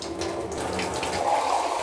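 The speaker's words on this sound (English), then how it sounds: "The high-speed jet is pushing the water up and out." A high-speed jet of water gushes into a cup, forcing the water up and out in a steady, close splashing rush with no pauses.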